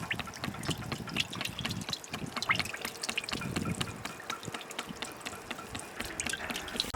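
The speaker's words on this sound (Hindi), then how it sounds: "इसमें ऑयल डालेंगे।" Cooking oil is poured into a pan for a giant 30 kg fish curry, a steady liquid trickle and splash with a dense, continuous texture and no talking.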